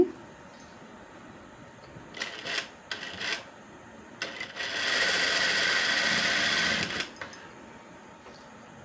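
A sewing machine stitches invisible piping on cloth in short bursts, two brief runs, then a longer steady whir of about three seconds, close and clear with quiet pauses between.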